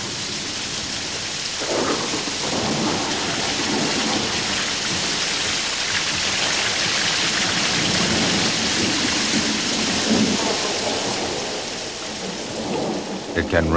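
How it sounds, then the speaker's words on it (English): A heavy tropical downpour in the Pantanal wetlands pours down with a dense, steady hiss, while thunder rolls and rumbles through it at intervals. "It can rain as much as 2 inches in an hour."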